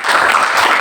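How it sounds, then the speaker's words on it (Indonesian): A classroom audience breaks into applause, a dense continuous patter of many hands clapping at once, loud and close, with no talk over it. "Kita beri tepuk tangan dulu."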